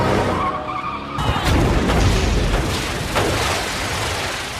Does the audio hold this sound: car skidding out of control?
yes